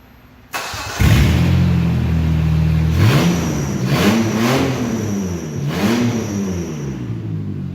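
An Opel Rekord engine on an engine stand cranks and catches, then settles into a steady, loud idle before being revved several times, each rise and fall of the engine note close and unbroken.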